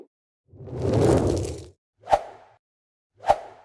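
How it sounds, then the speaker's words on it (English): Three short cinematic whoosh effects in sequence: a broader swoosh about a second long, then two quick, sharp swishes, each standing alone against silence. "for example short whooshes"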